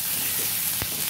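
Crushed garlic and ginger land in a hot wok and fry with a steady low sizzle, with one brief soft clatter partway through and no voices.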